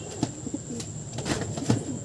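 Pigeon cooing in soft, repeated low phrases, with a few brief wing flutters, close by and moderately quiet.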